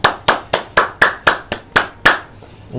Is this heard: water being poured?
no